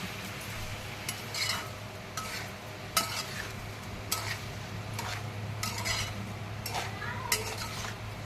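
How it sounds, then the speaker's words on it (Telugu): Tomatoes with turmeric being stirred in a pan for tomato pachadi: a low sizzle runs underneath while a spoon scrapes and taps the pan in repeated strokes, close and moderately loud. "ఇప్పుడు మొత్తం కలిసేలాగా కలబెట్టుకోవాలి"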